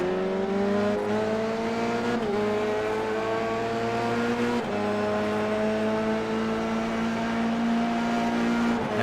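Volkswagen race cars roar around a circuit in the Indian Summer Racing League, a steady loud engine drone with rising pitch sweeps as gears shift, close and continuous without speech.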